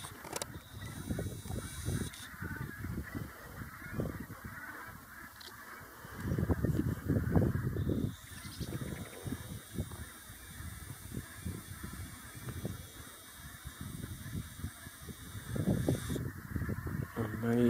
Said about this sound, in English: Amazing birds, and an amazing sound that really makes winter for me.